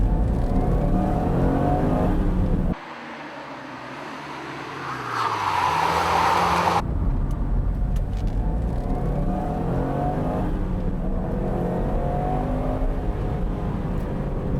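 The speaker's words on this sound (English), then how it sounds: "Coming up to the tight turn, Solberg makes the handbrake turn without heel and toe." A rally car driven by Solberg brakes into a tight corner and swings through a handbrake turn, engine revving loudly with a sudden drop, a slide, then strong acceleration away, engine roaring steadily throughout with no voices.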